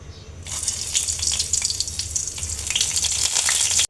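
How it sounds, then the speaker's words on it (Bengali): Dried red chillies hit hot mustard oil in a wok with a sudden loud, bright sizzle that stays strong and steady for several seconds. "সরিষার তেল দিয়ে দিচ্ছি কড়াইতে, আমি শুকনো মরিচ ভেজে নেব।"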